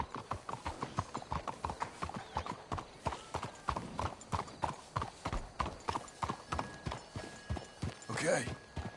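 Horse hooves clip-clop in a steady, rapid rhythm throughout in Red Dead Redemption 2, close and distinct, with a brief snort near the end.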